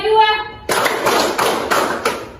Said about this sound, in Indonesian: Tepuk 3, tepuk 4, tepuk 5, tepuk 22